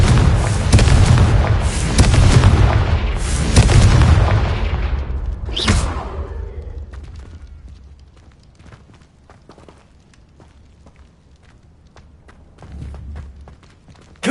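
A Confringo blasting spell goes off in a Harry Potter video game: loud, booming explosive bursts in quick succession, then a sharp crack near the middle, with softer thuds and footstep-like ticks trailing off afterward.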